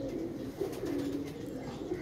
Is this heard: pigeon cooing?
yes